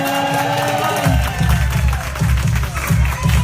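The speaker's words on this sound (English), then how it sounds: "Give them a round of applause." An audience at a youth performance event in San Francisco breaks into applause and cheering after a brief voice, with loud, close clapping and whoops that rise in rhythmic swells.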